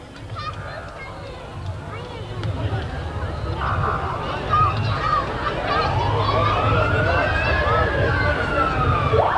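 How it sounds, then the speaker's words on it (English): A siren wails and sweeps upward in the distance at a street parade, rising over a noisy crowd with chatter, honks and background commotion. "Oh, a lot of great sirens."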